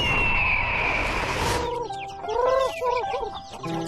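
Chickens cluck in a rural village yard, several short rising calls overlapping close by after a brief stretch of louder mixed background noise.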